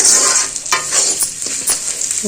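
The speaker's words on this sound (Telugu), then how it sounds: "దీన్ని ఇంకొక రెండు నిమిషాలు వేగని" Poha tempering frying in a pan, a steady close sizzle with scraping stirring strokes throughout, no voices.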